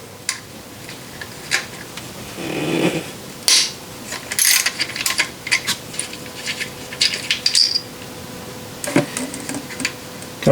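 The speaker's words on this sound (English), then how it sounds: "Unscrew these bolts and remove coils carefully." A ratchet with a 10mm socket loosening ignition coil bolts on a Nissan Murano engine, rapid clicking pawl bursts in short repeated strokes, close and clear with small metallic taps between.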